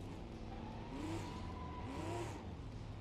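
Racing car engine from BeamNG.drive revving in two swells, rising whine climbing in pitch then falling back, over a steady mechanical drone, loud and close with no voices.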